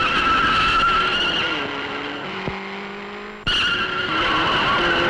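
Car tires skid and squeal on a turn in an old classic Hindi movie scene, a loud sustained screech over engine noise that dips briefly and then bursts back in.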